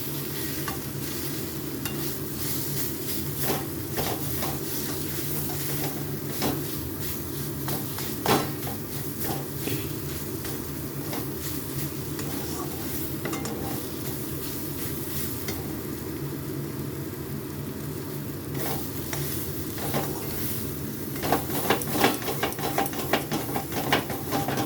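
Mushrooms being stir-fried for kosha in a pan, a steady sizzle of frying under repeated scraping and clattering strokes of a spatula, close and continuous, growing busier near the end, with no talk.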